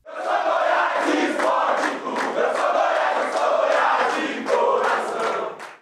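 A loud crowd of football fans roars and chants at an airport to celebrate their club's return to Série A, a dense, sustained mass of cheering voices with sharp accents throughout.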